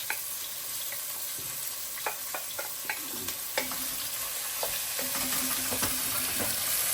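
Carrots and other vegetables sautéing in a pot, a quiet sizzle broken by scattered clicks and scrapes of stirring, no voices.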